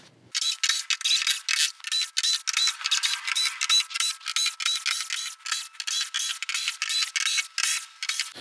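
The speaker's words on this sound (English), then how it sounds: "But first, we'll wanna get these screws out." Screws being removed from the back of a VIZIO V436-G1 TV, likely with a powered driver: a steady run of short, repeated high-pitched whirring bursts, close and fairly even in rhythm.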